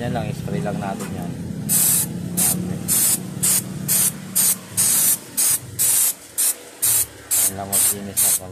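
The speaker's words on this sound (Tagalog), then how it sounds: "spray lang natin yan" Spray cleaner hisses in a series of short, regular bursts while a Skygo 175 motorcycle with electric starter is cleaned, loud and close, with someone talking in between.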